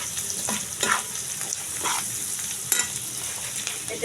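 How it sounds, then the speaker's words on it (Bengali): Maggi masala is stirred into pasta in a hot pan, giving a constant sizzle broken by several sharp scraping strokes of the spoon against the pan. "মশলাটা দেওয়ার পর আমরা ভালো করে নাড়াচাড়া করে নেব যাতে পুরোটা মিশে যায়।"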